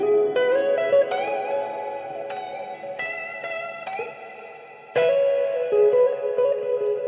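Electric guitar notes and chords ring out through a Mojohand FX room reverb pedal at the end of the chain, each strum lingering and decaying smoothly, with a fresh strike halfway through.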